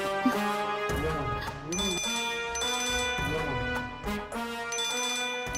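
A mobile phone rings in a Tamil TV serial scene, a repeating melodic ringtone with clear tonal notes cycling in bursts for over five seconds, fairly prominent.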